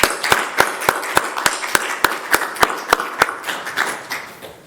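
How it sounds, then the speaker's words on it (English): Audience applause at a school board meeting, heard as a single pair of hands clapping in a steady, even rhythm, close and distinct, with a faint echo of the room and no other clappers joining in. "I myself will give you a round of applause"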